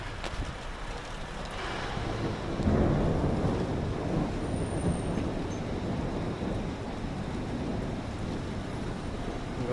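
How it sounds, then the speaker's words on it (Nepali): Thunder rumbles through a windstorm with rain near an airport, a broad low roar building around the third second and holding steady with constant wind and rain noise throughout, no voices. "गडेङ गुडुङ गरेको छ"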